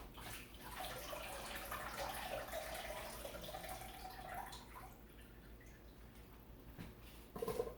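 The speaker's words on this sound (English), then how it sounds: "Now I'm going to throw away the water from the potatoes." Hot water from a pot of boiled potatoes is poured off in a steady splashing stream for about five seconds, then it thins to quiet trickles before a short clatter at the end.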